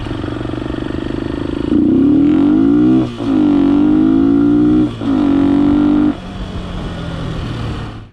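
A Honda XLR125R motorcycle fitted with a 150 kit and a PZ27 carburettor rides steadily in fifth gear at about 85 km/h, its loud, continuous engine drone rising and dipping slightly with throttle changes, close and alone.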